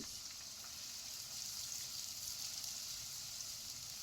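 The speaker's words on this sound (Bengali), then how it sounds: "এখন হচ্ছে মশলাটাকে জাস্ট 2 মিনিটের মতো ভেজে নিব" Whole spices fry in a pan for a Bogra-style fish pulao, giving a soft, continuous, even sizzle heard alone and faint throughout.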